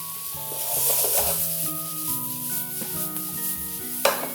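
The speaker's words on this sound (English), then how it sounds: "All right, so that onions and garlic looks like it's almost done." Onions and garlic sautéing in a hot pan give a steady, close sizzle and crackle throughout, with a brief louder clatter near the end.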